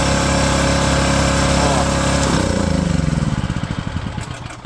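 A portable generator engine used to power a house runs loudly and steadily, then its pitch drops as it winds down into slower, sputtering pulses.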